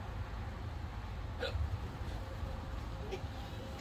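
A single hiccup from an audience member at a comedy show in a bar and grill, brief and close, rising over a steady low room murmur and crowd noise.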